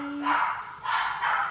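A couple of short, close barks from dogs reacting to a delivery at the door, coming in quick bursts inside a quiet room.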